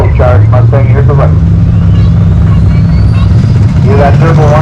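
Turbocharged Ford Mustang drag racing at the Greenfield, Nova Scotia strip, its loud engine drone rising steadily in pitch through the run, close and continuous under an excited commentator and crowd chatter.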